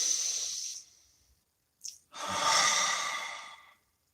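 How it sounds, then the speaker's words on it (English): Two slow, deep breaths close to the microphone, a long breathy exhale followed after a short pause by a fuller drawn breath, with no talking. "Please take a nice deep breath."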